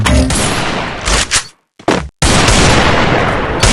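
Dense gunfire from the video game Free Fire bursts loudly and continuously, broken by a brief near-silent gap before the rapid shooting resumes at full intensity.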